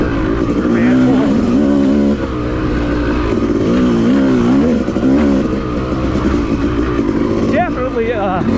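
A Yamaha YZ250 two-stroke dirt bike rides a woods trail at the Wambaw OHV Cycle Trail. The engine is loud and close, with a revving, warbling pitch that rises and falls through the gears. A rider talks over it throughout.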